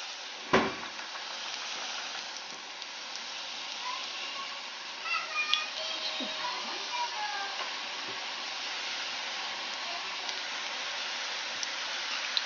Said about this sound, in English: Look at that frying up.